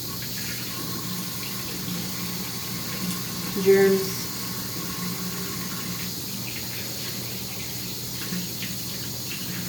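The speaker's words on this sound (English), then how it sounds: "So we're just gonna put some water on it because it touched something." Water from a bathroom tap runs into a sink as a toothbrush is rinsed, a steady faint hiss beneath a whirring fan, with a person talking over it.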